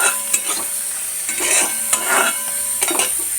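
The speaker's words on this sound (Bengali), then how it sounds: "এটা আমি এবার একটু লাল করে ভেজে নেব।" Crushed garlic and green chilies fry in a pan with a soft crackling sizzle, punctuated by a few sharp clinks and scrapes of a spoon stirring against the metal.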